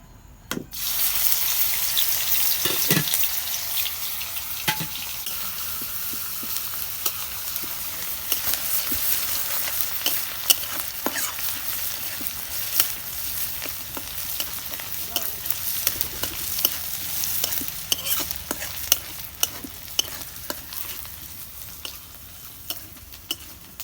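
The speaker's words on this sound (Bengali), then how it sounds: "তেল গরম হচ্ছে, এখন আমি পেঁয়াজ দিয়ে দিব।" Onions frying in hot mustard oil in a kadai, a close, continuous sizzle broken by frequent sharp clicks and scrapes of stirring, loud at first and easing slightly as it goes on, with no voices.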